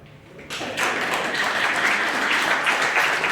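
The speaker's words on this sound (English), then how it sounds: "That's an applause line." An audience at a governor's speech breaks into applause after a brief quiet moment, the clapping swelling quickly into a dense, sustained wave that continues to the end.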